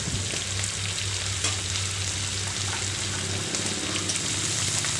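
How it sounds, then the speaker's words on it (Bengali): Chili, onion, salt, ginger-garlic paste and turmeric sizzle steadily in a pan for a shrimp curry while being stirred, a continuous close frying hiss with a low steady hum underneath and no talking. "তো আবার একটু নাড়াচাড়া করলাম"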